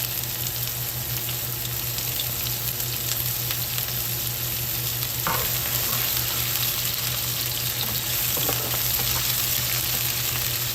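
Garlic and onion fry in a pan for Pampanga-style beef ribs asado, giving a continuous close sizzle over a steady background hum, with no voices.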